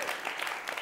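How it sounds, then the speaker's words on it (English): An audience at a live talk in Los Angeles claps briefly, a short burst of applause. "That definitely deserves a hand clap."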